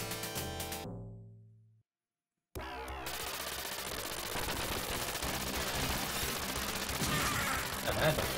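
Rapid gunfire from the retro arcade run-and-gun game GunForce bursts in after a brief silence, a dense continuous barrage of game shots mixed with music and effects.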